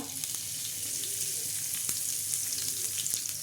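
Curry leaves sizzling in hot oil on a tawa for a bitter gourd sabzi, a close, steady hiss with occasional sharp pops and spatters, no talking.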